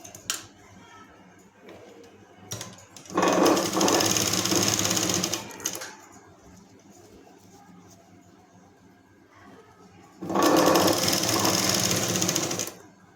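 Sewing machine top-stitching a cloth strip on a balloon-style ledger binding, running in two loud sustained bursts separated by quieter handling and pauses.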